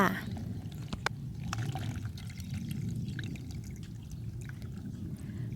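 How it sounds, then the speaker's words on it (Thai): Water soaked overnight is strained off and poured out, a steady splashing pour with light trickling running through the whole stretch, fairly close, with a sharp click near the start. "เราก็จะมากรองเอาแต่น้ำเลยค่ะ"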